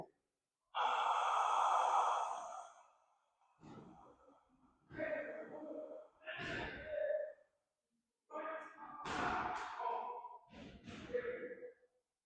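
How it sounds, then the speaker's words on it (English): Slow, deliberate breaths drawn and released through an open mouth during a yoga breathing exercise, several soft airy exhales of uneven length with pauses between them, close and fairly quiet. "Hold your breath, open your mouth, relax your throat, and then slowly exhale"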